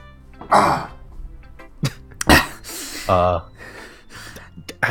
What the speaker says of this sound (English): That was me clearing my throat.